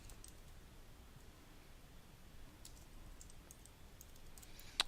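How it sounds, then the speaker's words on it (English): Computer keyboard being typed on to enter names, faint scattered key clicks in a quiet room. "And now I'm going to type in some names."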